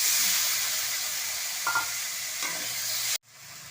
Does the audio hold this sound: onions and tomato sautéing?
yes